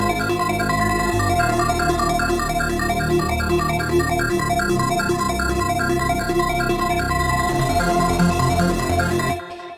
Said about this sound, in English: a fill leading to a crash with a break, which sounds like this